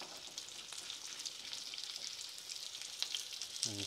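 Pancetta or guanciale fries hard in its own rendered fat for carbonara, a close, steady crackling sizzle with a few sharper pops toward the end.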